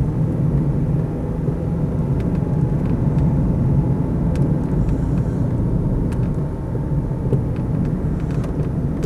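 A Land Rover Freelander 2.0 diesel station wagon engine shifting gear on the move, heard from inside as a loud, steady low rumble and drone with faint clicks and rattles throughout.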